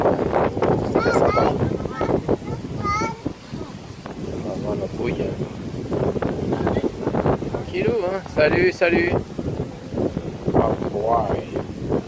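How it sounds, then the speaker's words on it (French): Wind gusting outdoors on a breezy day at a tourist village, blustering against the microphone and rumbling beneath steady nearby talk and passing voices. "Il y a du vent évidemment aujourd'hui."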